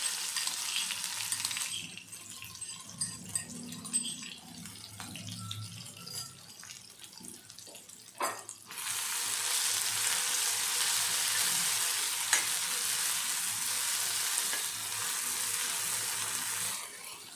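Ground masala paste fries and is stirred in a pan for a beetroot cutlet recipe. A low bubbling sizzle with scraping strokes gives way to a brighter, steady hiss that fills the back half of the clip.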